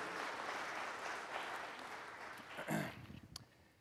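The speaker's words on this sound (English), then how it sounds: "let's give these folks a round of applause" Audience applause at a foundation's annual report evening rises as a dense, steady patter of many hands, then thins into a few scattered claps before fading out.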